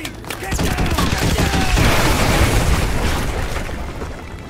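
Danger-close artillery strike in Call of Duty Modern Warfare 2 landing near the player, heavy booming blasts blending with dense rattling gunfire in a loud continuous barrage that slowly eases off.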